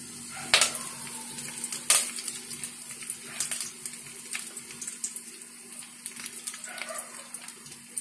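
Curry leaves sizzle in hot sesame oil for a mushroom chukka, giving an irregular crackle of sharp pops and spatters over a continuous frying hiss, close and fairly loud.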